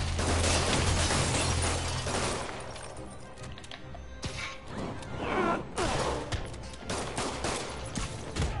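Enemies firing at Spider-Man in a Spider-Man video game, a dense burst of rapid gunfire followed by whooshes, impacts and crashes from the fight, loud and close, with no talking.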